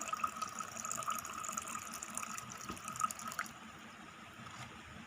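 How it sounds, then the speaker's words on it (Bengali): Water poured into a spice mix of salt and cumin powder for egg fuchka, a faint steady trickling that runs for several seconds before easing off. "তো এর মধ্যে আমি দিয়ে দিচ্ছি জল।"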